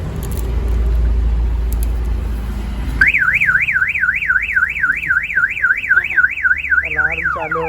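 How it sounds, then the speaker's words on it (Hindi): A low tractor engine rumble gives way to an electronic vehicle alarm, a loud rapidly warbling siren that wails steadily for several seconds. "अलार्म चालू हो गया।"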